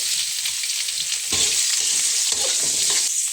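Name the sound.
chopped onions frying in oil with masala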